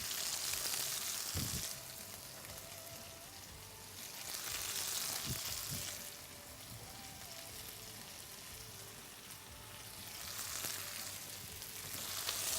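Red onion frying in a pan with chicken drumsticks, a soft steady sizzle that swells and fades in slow waves, with a few low knocks from stirring and no talking.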